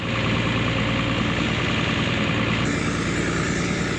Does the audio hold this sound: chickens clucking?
no